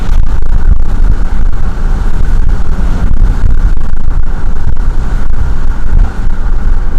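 Steady, loud low rumble of road noise inside a moving car, with wind buffeting and engine hum running continuously and unbroken throughout, no voices.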